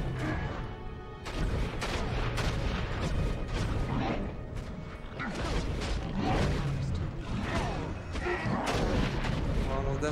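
Fireball spell explosions in Baldur's Gate: Dark Alliance on PS2 come as a rapid series of loud blasts and crashes that continue through the stretch, mixed with other combat noise and voices.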